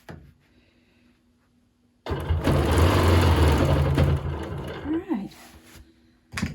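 A sewing machine runs in one loud, steady burst of about two seconds while free motion quilting a pillow, then stops, followed by small handling clicks.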